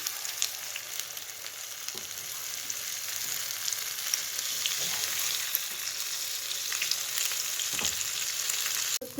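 Egg paniyaram frying in a paniyaram pan gives a steady, dense sizzle that holds at an even level throughout, close by, with a few faint clicks and no talking.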